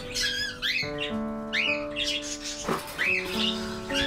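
Pigeons in a loft give repeated squawks and chirps, close and fairly loud, over a steady tonal hum in the background, with no talking.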